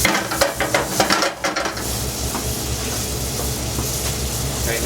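Bacon sautés in a pan for coq au vin, a steady broadband sizzle with several sharper stirring scrapes near the start before settling into continuous frying noise.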